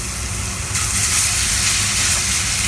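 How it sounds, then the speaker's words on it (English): Minced garlic fries in a pan for eggplant bharta, a steady broadband hiss and sizzle that swells slightly after a moment and continues without pause, with no talking. "With that, I'll just fry the garlic."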